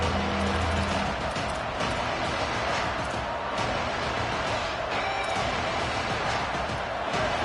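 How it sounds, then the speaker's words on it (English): Steady stadium crowd noise from an American football video game, a dense roar that holds at an even level throughout with a few brief thuds and no clear talk over it. "This crowd bringing the energy and noise early."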